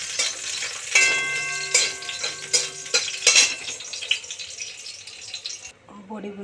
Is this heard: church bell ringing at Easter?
no